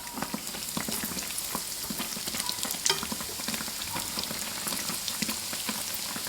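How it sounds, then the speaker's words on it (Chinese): A yeast-dough bun frying in hot oil in a covered pan over medium heat as it gets flipped, giving a dense continuous crackling sizzle with a brief louder clatter midway, close and steady. "盖中火，炸至底边定型，我们给它翻一个面。"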